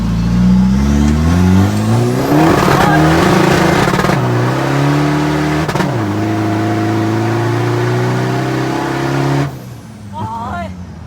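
A remapped Ford Ranger-style pickup engine pulls hard and close, rising in pitch through successive gears with brief dips at each shift, then easing off near the end as a voice speaks briefly.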